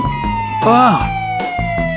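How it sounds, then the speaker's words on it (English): Ambulance siren arriving at a house fire, a loud nearby wail with one rising and falling sweep and steady tones around it. "Even the ambulance came."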